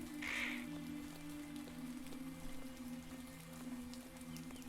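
Steady, soft video-game rain patters under a low droning hum, with a brief bird-like call near the start.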